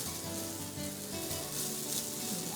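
Thinly sliced onions sizzle steadily in a pan while cooking down for honey garlic chicken, a dense, even frying hiss that runs unbroken throughout with no voices.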